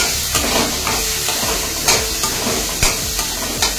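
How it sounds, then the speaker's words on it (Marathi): Bitter gourd frying in hot oil gives a loud, dense, continuous sizzle with repeated scraping stirs of a spatula in the pan, heard close and without speech. "आता कारले देखील आपण छानपैकी तेलात"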